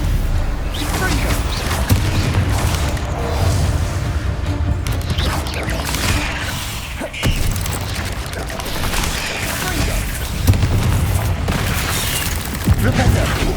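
Confringo blasting-curse explosions in the Hogwarts Legacy video game: repeated loud booms and crashing impacts over a busy combat din, with voices audible at times.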